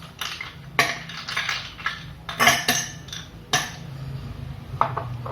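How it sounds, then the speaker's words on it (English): Ice cubes clinking and rattling into a jar of homemade pineapple juice, several sharp hard knocks over a steady low hum. "Add ice cubes."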